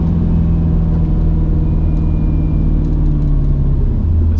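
A Mercedes C55 AMG engine while driving, still warming up and with an intermittent revving fault, a loud, steady low rumble with a constant drone and a slight shift in pitch near the end.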